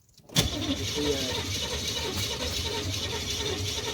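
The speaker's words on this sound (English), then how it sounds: "Like open the throttle and crank it." A Chevrolet Camaro engine cranks over with the throttle held open after carb cleaner is sprayed in. A sudden loud start gives way to a steady, close mechanical churning and whirring that never catches into a running engine.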